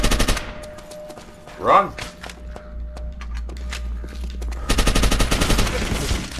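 Call of Duty gunfire in a multiplayer match on the Dome map: clustered shots and bursts, loudest near the end, mixed with other game sounds while a voice briefly speaks.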